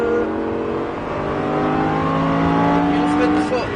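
A Lamborghini Huracan LP610 engine drones steadily at light throttle on a race circuit, holding a sustained rising tone close by while an instructor talks over it.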